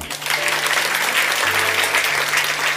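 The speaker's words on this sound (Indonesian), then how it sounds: "Tepuk tangan untuk Tuhan." A church congregation claps steadily in praise of God, a dense wash of applause filling the room throughout, close and fairly loud, with a low hum underneath.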